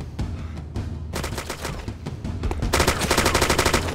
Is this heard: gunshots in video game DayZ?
yes